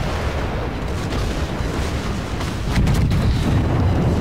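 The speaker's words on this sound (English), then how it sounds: "It's got 15-inch guns with very good velocity" Heavy 15-inch naval guns fire in World of Warships, with broadside booms rumbling over a continuous low roar that swells louder partway through, with no voices.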